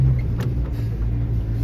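A car drives a bumpy, thick-sand road toward the Sossusvlei dunes in Namibia, giving a steady, close, low rumble of engine and tires with a faint knock partway through.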